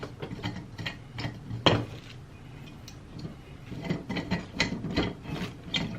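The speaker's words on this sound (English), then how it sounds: "Let me start to crank this up a little bit, and then I'll give you an example of how this actually works." A VESA desk monitor mount is cranked up by hand, giving a close, uneven grinding and ratcheting mechanical rasp with repeated clicking strokes.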